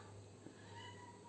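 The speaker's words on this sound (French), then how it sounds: "C'est les petits chats qui miaulent" Kittens in a house give a single faint, short meow over a quiet, steady background hum.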